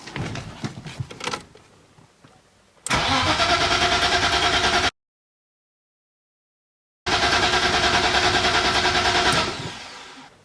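A car engine cranks and catches after the turbo was re-drilled, running loud and steady for about two seconds, cutting out, then running again just as loud near the end, with mechanical clatter before.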